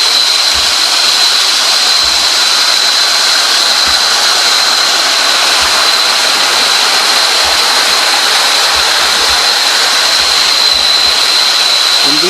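River water rushes steadily and loudly at night, a broad continuous roar with a thin steady insect-like whine above it and no talk.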